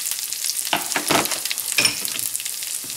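Garlic and basil sizzling in butter in a pan, a close crackling fry that swells in short bursts as the pan is stirred, with no one speaking.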